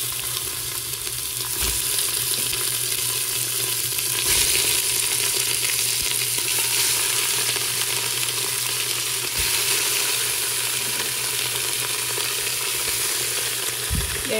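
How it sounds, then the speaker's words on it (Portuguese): Beef sears in a pan with toasted onions, a loud steady sizzle and crackle running continuously at close range, with occasional stirring bumps and no talking. "A carne selou de um lado, aí eu virei o outro pra selar, tá vendo?"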